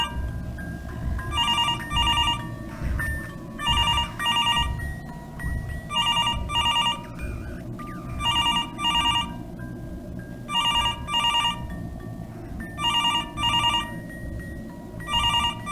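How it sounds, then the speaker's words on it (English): A phone rings in Mr. Hopp's Playhouse, a bright electronic double-trill ring repeating at regular intervals over a low rumbling game backdrop, loud and persistent without any speech. "The phone noise is annoying me."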